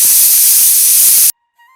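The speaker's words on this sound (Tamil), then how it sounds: "குக்கர் விசில் சத்தம் மறுபடியும் கேட்டுச்சு" A pressure cooker cooking dal on a village stove lets off a loud, close steady hiss of escaping steam that cuts off abruptly, leaving near silence with a faint tone after.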